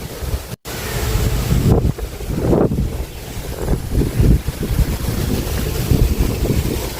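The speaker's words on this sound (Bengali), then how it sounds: "দেখো কত বাতাস এখানে" Strong wind blows outdoors by a cremation ground shelter after light drizzle, loud gusty buffeting right on the microphone with a continuous roar and rising, falling bursts throughout.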